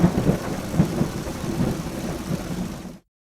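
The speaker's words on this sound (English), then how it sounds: "The sky turns grey. The rain falls hard. It is a storm." Heavy storm rain pours down as a loud, steady roar with low rumbling swells underneath. It continues without any voices and then cuts off abruptly.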